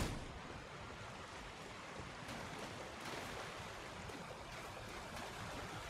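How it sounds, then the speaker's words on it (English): Waterfalls in the video game Elden Ring pour as a soft, continuous rushing wash, even and unbroken, faint and distant with no voices. "Haha, waterfalls."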